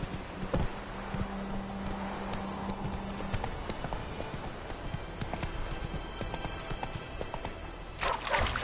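Horse hooves clip-clop steadily in The Witcher 3: Wild Hunt on PS4, a rhythmic trotting gait over game ambience, with a brief whinny-like burst near the end.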